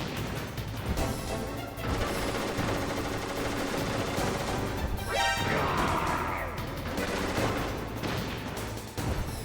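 Metal Gear Solid combat with the Nikita remote-controlled missile: dense crashing blasts and gunfire-like bursts, a loud explosion swelling midway, chaotic and continuous.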